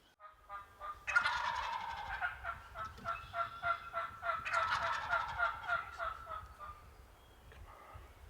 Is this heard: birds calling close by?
yes